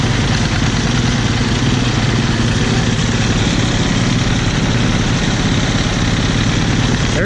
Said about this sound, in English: It's a new idea being pulled with the John Deere 50.